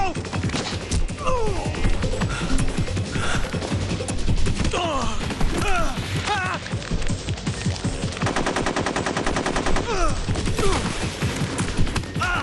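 Gunfire in the video game Metal Gear Solid 3: Snake Eater, with dense bursts of automatic weapon fire and single shots in a loud, continuous fusillade, broken by shouted game voices and a player's occasional remarks.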